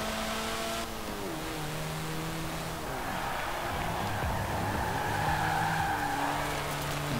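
A lightweight car's engine revs and races around an uphill-heavy circuit in Forza Horizon 4, the pitch climbing and dropping through gear changes with occasional tire squeal, steady and close with no speech.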